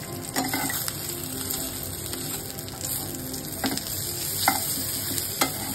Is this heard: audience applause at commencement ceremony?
no